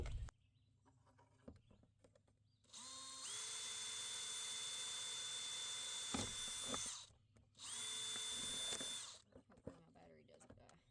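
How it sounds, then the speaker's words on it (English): Cordless battery drill with a 3/16 bit boring holes in the bottom of a plant container, two sustained high-pitched whirring runs, the first long and the second shorter, close and loud, with quieter handling noise before and after. "And so I'm just going to drill some holes in the bottom of this."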